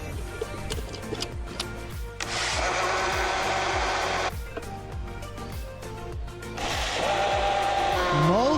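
A blender whirs through an oat breakfast drink in two bursts of a few seconds each, loud and close, with clattering kitchen sounds and light background noise between them.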